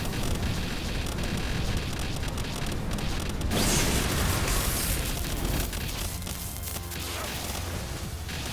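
A Holy Burst attack in Palworld erupts in a loud, dense roaring blast that swells midway and then settles into a rumbling wash.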